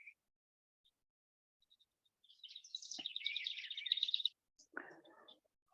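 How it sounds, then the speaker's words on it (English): High, thin bird chirps and a brief trilling song in an otherwise quiet outdoor setting, faint and somewhat distant, with a short rustle afterward. "And you can probably hear all the birds."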